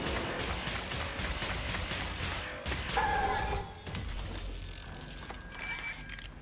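A chain gun fires in the video game Wolfenstein, producing a rapid, continuous stream of loud mechanical shots with some clanking impacts and no talk.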